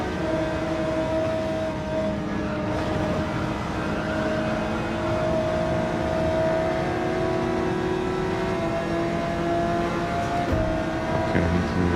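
Race car engines drone and whine steadily as cars overtake during a 24-hour endurance race on the Nordschleife in Gran Turismo 7, a sustained engine tone with shifting pitch and no talk.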